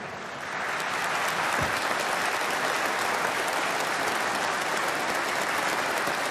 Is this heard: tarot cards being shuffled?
no